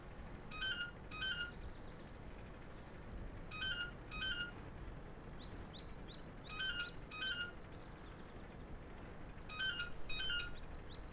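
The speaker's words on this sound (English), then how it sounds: "And that would be my phone." A mobile phone ringtone repeats in four paired bursts of bright electronic chirps, each pair separated by short pauses. It sits moderately loud over a steady background hiss, with a few faint bird-like chirps between rings.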